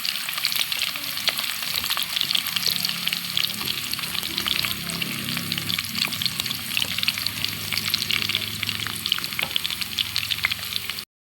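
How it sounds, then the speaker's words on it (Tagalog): Siomai sautéing in a pan with golden-browned onion and garlic: a constant close sizzle, broken by frequent clicks and scrapes of stirring throughout, with no voices. "Nilagay ko na yung siomay guys. Igisa lang natin."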